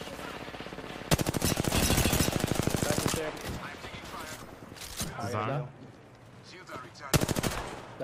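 Automatic weapon fire in Apex Legends, two long rattling bursts of rapid shots with quieter scattered shots between them, while a player talks over the fight.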